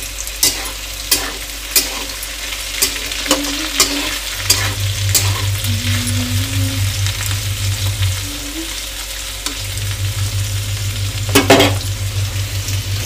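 Food frying in a pan at home sizzles loudly and steadily, with sharp scraping and clinking stirs early on and a low hum underneath, no voices present.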